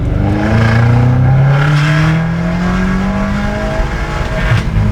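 A software-tuned BMW M5 F90 of roughly 800 hp revs hard and close by, its exhaust rising and falling through a loud sweeping drone, with a brief pop near the end.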